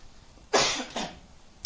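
A lecturer in a chemistry class coughs twice in quick succession, close and loud, the second cough a little weaker, followed by a tiny click.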